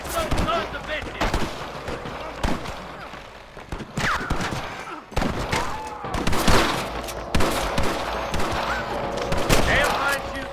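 A gunfire shootout in the Red Dead Redemption video game: sharp, loud shots crack in irregular bursts and volleys over about ten seconds, with near and distant reports overlapping and voices talking in between.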